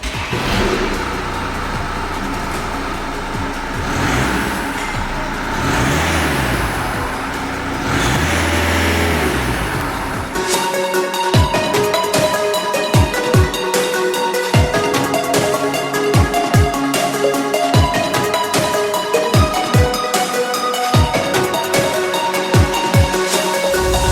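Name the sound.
VW Scirocco diesel engine with catback exhaust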